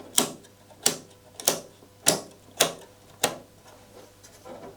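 Memory chips pressed one by one into the sockets of a heavily loaded Intel Inboard PC/XT memory card, giving six sharp, close clicks at a steady, roughly half-second pace with no talking.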